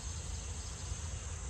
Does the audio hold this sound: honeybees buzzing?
yes